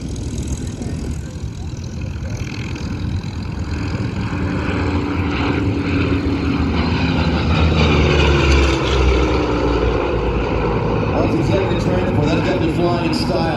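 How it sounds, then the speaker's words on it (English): Howard and Lockheed propeller planes make a flyby at an airshow, a broad steady engine drone that swells gradually and stays loud throughout, with crowd or commentary murmuring beneath. "here comes the Howard and the Lockheed in a flyby"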